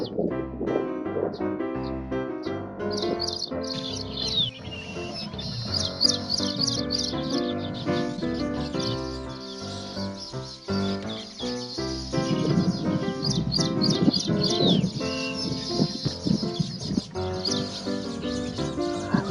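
Baya weaver birds chirp and call from a tree in a dense, continuous chorus of bright, repeated tweets layered over steady background music.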